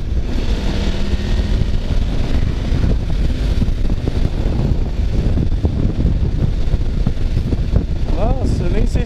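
Strong gusting wind roars across the microphone while riding a Suzuki V-Strom motorcycle, a loud continuous rushing with engine and road rumble beneath and someone talking throughout.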